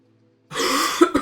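A single throat-clearing cough, short and close, breaking out of silence with a second smaller rasp right after.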